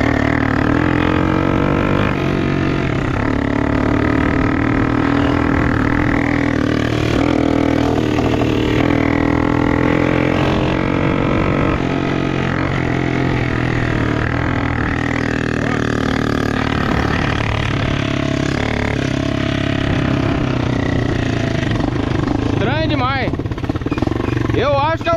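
A small engine with its choke pulled up runs rough and uneven, a steady droning hum with wavering pitch that continues throughout while people talk over it.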